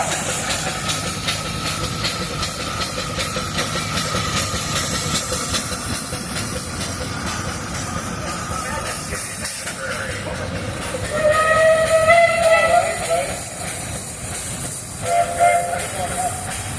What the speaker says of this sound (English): This is a 1910 steam engine owned by Paul and Angela Witter